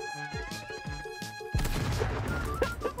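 Gunfire crackles in the video game Eclipse before a frag grenade explosion bursts in as a sudden loud blast, followed by a noisy rumbling aftermath with scattered pops.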